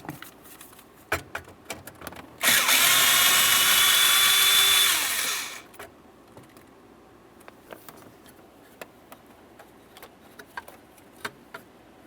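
A power drill or driver runs steadily for about three seconds, close and loud, while removing a 5.5mm bolt from a steering column bracket on a 2001–2005 Ford Explorer. Light clicks and small handling knocks come before and after.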